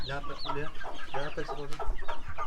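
A Shamo hen clucks close by in a rapid series of short, throaty, nasal calls that repeat steadily throughout.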